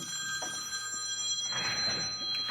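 A telephone rings during an indoor paint-mixing session, a repeated electronic ringing tone heard over room noise, with no speech.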